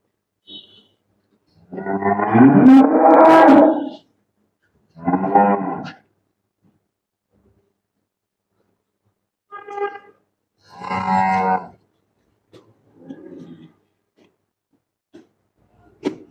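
Holstein Friesian dairy cow at a dairy farm mooing several times, with long loud calls followed by shorter, fainter lows separated by quiet gaps, heard close by and alone.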